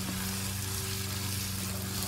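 Fish frying in hot oil for a Nigerian fish roll, a continuous dense crackling sizzle with a faint steady hum underneath, close and unbroken throughout.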